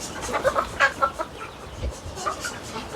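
Free-range hens clucking nearby in short irregular bursts, several birds calling over a faint outdoor background.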